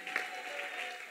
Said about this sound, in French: Est-ce qu'on peut donner un hurrah d'acclamation à notre Seigneur Jésus qui se tient au milieu de nous?